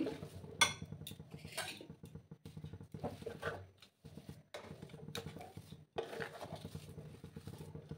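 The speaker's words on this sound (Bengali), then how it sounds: "দেখো, আমি ভালো করে মিক্স করে নিচ্ছি।" A semolina and potato mixture being stirred in a pan produces repeated soft scrapes and light metallic clinks of a spoon against the pan, quiet and close, in uneven bursts with short pauses.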